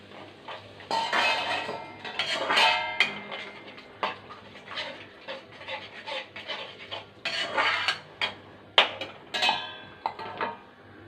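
Metal dishes and a pot clink and scrape nearby as a metal plate is set over a boiling pot of potato and dried fish curry, a jumble of light clanks and rattles at a moderate level with no talking.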